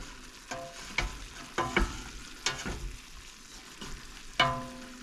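Onions frying in a pot for creamy tortellini soup, a low steady sizzle punctuated by several sharp clanks and scrapes of a utensil stirring against the pot, close up and without talk.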